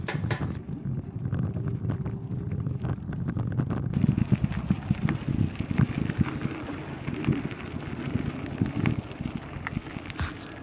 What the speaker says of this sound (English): the wind's really blowing on the bay side